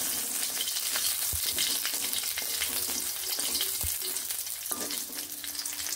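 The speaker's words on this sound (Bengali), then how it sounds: "এবার ভালোভাবে ফোড়নগুলোকে এইভাবে নেড়ে নিচ্ছি।" Panch phoron and green chilies stir-frying in hot oil, a loud dense sizzle close up with a few knocks of a spoon against the pan.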